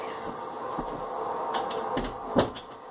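Quiet indoor clicks and thumps of a room door being shut, a couple of soft knocks ending in one sharper bump near the end, over faint background hum.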